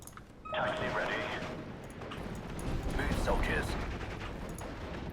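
A P-51 Mustang fighter in Steel Division: Normandy 44 strafes an anti-tank gun, a steady rumble of engine and cannon fire across the clip, with a voice talking over it.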